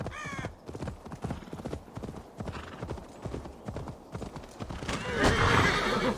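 A horse in the video game Assassin's Creed Valhalla clip-clops along with rapid hoof beats, then lets out a loud whinny near the end, close and fairly clear.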